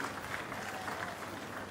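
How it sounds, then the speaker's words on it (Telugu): A crowd at a public meeting in Tuni claps steadily, giving a dense, continuous patter of applause that stays moderately loud and even throughout. "ఓకే, గట్టిగా చప్పట్లు కూడా అభినందించండి"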